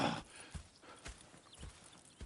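Horse hooves clip-clopping at a steady walking rhythm in the Red Dead Redemption 2 video game, soft and fairly distant with no talk.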